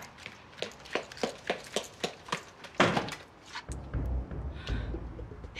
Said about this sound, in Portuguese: Vou eu de novo atender essa meleca dessa porta.